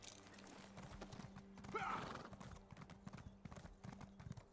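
Steady clip-clop of horse hooves with a brief whinny near the middle, over a low droning background, in the video game Elder Scrolls Online.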